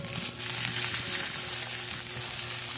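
Garlic and vegetables sizzling in hot oil in a pan while cooking pakbet, a steady close crackling fry with no talk.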